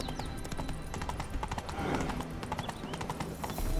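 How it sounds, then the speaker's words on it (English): In The Witcher 3, a horse's hooves clip-clop in a quick, regular rhythm along with a faint snort, running steadily for the whole stretch beneath low game ambience. "Spooking my horse."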